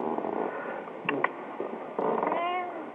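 A house cat purrs steadily up close, a soft continuous rumble with a few brief higher vocal bursts and a rising chirp near the end, no talking over it.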